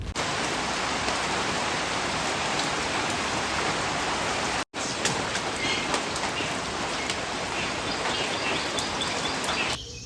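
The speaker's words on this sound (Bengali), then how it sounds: "এই যে সবে বৃষ্টিটা কমলো" Steady rain falls, a dense even patter on surfaces that fills the whole scene, with faint bird chirps breaking through and a brief gap partway through.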